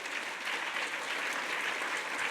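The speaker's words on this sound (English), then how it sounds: "Let's give another round of applause for Connie" An audience in the room at a governance symposium claps continuously, a dense, even wash of many hands at moderate loudness with no voices over it.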